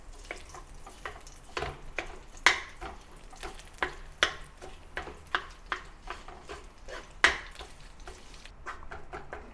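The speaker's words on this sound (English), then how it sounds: "Then mash the yolk with a spatula." Salted egg yolks mashed with a spatula in an oiled wok, making a run of sharp scraping taps and clacks against the metal over a faint sizzle, close up with no talk.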